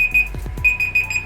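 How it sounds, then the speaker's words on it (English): An alarm clock goes off with a rapid, repeating electronic beeping in short bursts, loud and close, along with a few low thumps in between. "That's my stupid alarm for distance learning."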